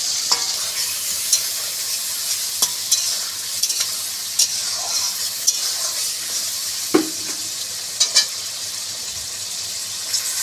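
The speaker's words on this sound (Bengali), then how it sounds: "সব চিংড়ি মাছগুলো কড়াইতে দিয়ে দিয়েছি। এবার ভালো করে ভেজে নেব।" Prawns fry in hot oil in a wok with a constant close sizzle, broken by repeated sharp scrapes and clinks of a utensil stirring them.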